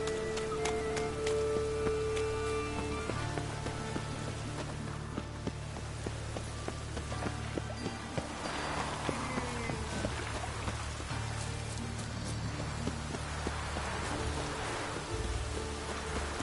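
Steady rain falls continuously in an outdoor game scene, a dense even patter with occasional heavier drops and faint footstep-like taps.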